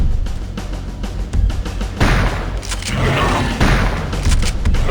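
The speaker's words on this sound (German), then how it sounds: "Gott, das war ein Schuss." Several heavy booming shots and thuds burst out in quick succession in the video game Turok 2: Seeds of Evil, loud and close, with crackling echoes between them.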